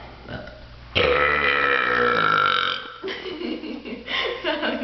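One long, loud, croaking burp during a burping contest, lasting about two seconds, followed by voices talking and laughing nearby.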